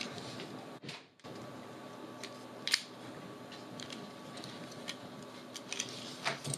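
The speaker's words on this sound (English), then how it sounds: "Keypad comes off, the plastic." Plastic keypad of a BlackBerry Curve 9360 phone being unclipped during disassembly, a few faint close clicks and snaps, one sharper crack standing out against quiet handling noise, with no talking.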